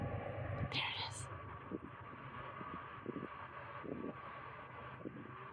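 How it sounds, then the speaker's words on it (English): A train rumbles steadily in the distance across the desert near Lavic, California, a low continuous drone beneath people talking quietly close by. "I can hear the train somewhere. So loud. There it is."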